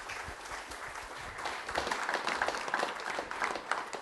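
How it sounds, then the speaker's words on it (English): An audience at a science evening event claps for the honored guests, a close, dense burst of applause that swells slightly and holds steady for several seconds with no voices over it. "So I think they deserve an applause."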